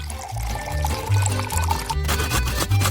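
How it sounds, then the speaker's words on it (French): Whipped cream is poured into a deep pan, giving a soft, close liquid pour and gurgle that runs continuously under a low background hum. "je dois verser de la crème fouettée dans une poêle profonde"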